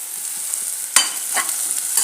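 Onions sautéing in a pan for momo filling, a soft continuous sizzle broken by a few sharp scraping stirs of the spatula, close and clear with no talk.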